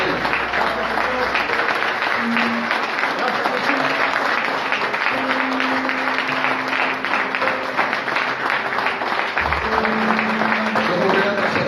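Sustained, energetic clapping from a large church congregation fills the space, with scattered shouts and a held musical tone beneath it.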